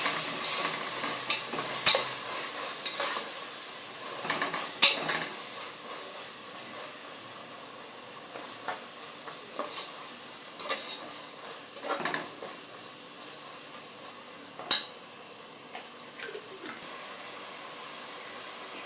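A spoon stirs and mixes chicken biryani ingredients in a pan with softened tomatoes, ginger and garlic, giving a steady close-up sizzle broken by irregular scrapes and clinks of the utensil.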